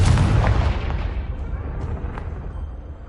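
Confringo blasting spell in Hogwarts Legacy, a loud close explosive boom that decays into a rumbling, crackling tail, with faint scattered pops as it fades.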